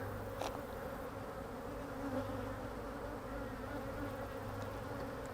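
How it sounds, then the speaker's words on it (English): A dense, steady drone of many honey bees flying around a hive during robbing, late in the evening, continuous and close with no talk. "So there's lots of bees in the air."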